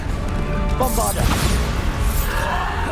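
A Bombarda blasting spell from Hogwarts Legacy erupts in a crashing explosion amid busy game combat noise, a sharp smash followed by rumbling debris, with faint voices in the mix.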